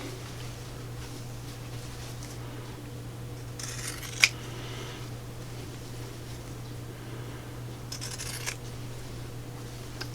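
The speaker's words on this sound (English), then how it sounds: "And I'm just using my pinking shears." Pinking shears clip off the fabric corners in two short, crisp snips, one with a sharp click, over a quiet steady hum.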